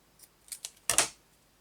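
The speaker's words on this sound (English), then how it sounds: "let's cut a tiny piece of this off." Scissors snip a tiny piece of net curtain fabric in a crafting session, a few light close clicks followed by one louder, crisp cutting snip, with no talking.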